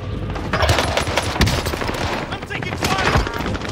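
Dense, loud automatic gunfire from Call of Duty: Vanguard Warzone on Rebirth Island, rapid bursts overlapping into a continuous barrage while players talk over it.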